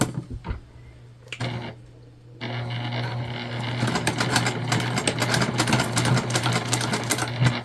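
Sewing machine stitching the vinyl-reinforced side panels of a fabric candy bag, starting with short bursts and pauses before settling into a steady, continuous close-up whir of rapid needle strokes.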